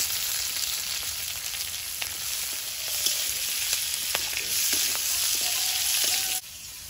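Slit green chillies and chopped onion fry in hot oil with five-spice seeds beside potatoes, giving a steady loud hissing sizzle with faint stirring clicks, close by, cutting off abruptly near the end, with no talking.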